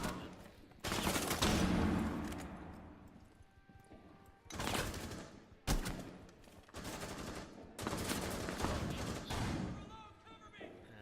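Bursts of gunfire from the Blackbeard operator's rifle in a video game, several loud volleys separated by short pauses, close and punchy, with someone talking between and over the shots.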